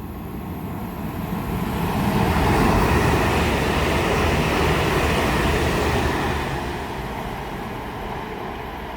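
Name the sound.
pair of London Northwestern Railway Class 350 trains passing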